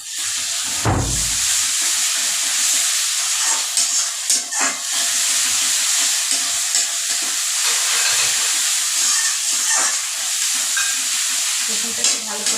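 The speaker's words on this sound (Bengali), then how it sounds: "রসুনটা একটু ভালো করে লাল করে ভেজে নেব" Garlic frying in hot oil for a Bengali jhal dish, a loud steady sizzle and hiss with occasional stirring scrapes and clatter, continuous and close.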